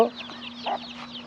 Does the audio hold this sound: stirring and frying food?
no